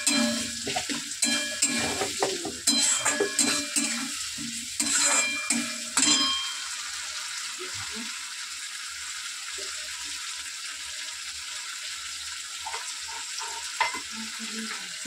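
Fish pieces sizzle and crackle in hot oil in a pan with ginger-chili paste, busy clattering spatters at first, then settling into a quieter, steady fry.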